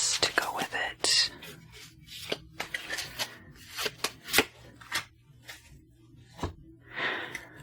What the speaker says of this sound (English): we can pull some additional cards to go with it